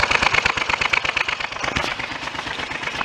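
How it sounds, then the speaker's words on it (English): A Triumph Trident three-cylinder motorcycle engine idles at about 1000 RPM on its right cylinder alone, the other two spark plugs removed, giving a loud, close, uneven string of sharp popping firing pulses with no talk. "here we are running on just the right cylinder with the middle and the left spark plugs removed"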